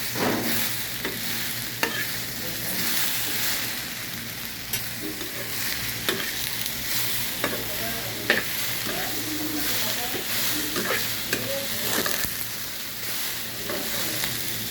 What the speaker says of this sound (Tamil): நல்லா கிண்டி விட்டுருக்காங்க.